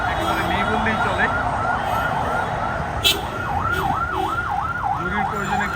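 An ambulance siren wails in a steady repeating up-and-down pattern as it passes through a road blockade by quota protesters at Farmgate, Dhaka, loud and close over crowd noise and traffic, with a brief sharp knock midway.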